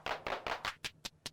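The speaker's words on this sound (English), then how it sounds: "We have a clap." Digital PCM clap from a Korg Volca Beats drum machine, seven sharp hand-clap hits in a quick pattern, the first four fuller and the last three tighter and shorter, close and clean with no voice.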